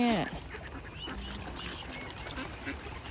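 Hungry ducks begging for bread: a couple of close, loud quacks at the start, then fainter scattered quacking and honking over outdoor background noise and a little talk.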